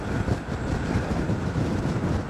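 Steady wind rushes and buffets against the microphone while riding a Gotway MSX 100V electric unicycle over a bridge near Fort Myers Beach, a continuous loud low roar with no voices.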